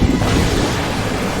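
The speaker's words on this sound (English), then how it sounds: "Hey, that sounds like some thunder." A steady, loud low rumble of thunder rolls through a Final Fantasy XIV game scene, broad and sustained with no distinct cracks and no talking.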